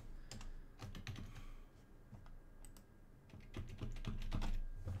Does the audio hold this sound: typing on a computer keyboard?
yes